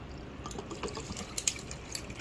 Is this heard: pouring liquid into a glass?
yes